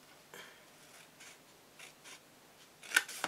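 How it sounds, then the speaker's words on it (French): Scissors snip paper while an explosion box is being made, giving several soft close cuts and rustles, with a sharper snip near the end against quiet room tone. "Là, j'ai coupé ici. Je vais couper"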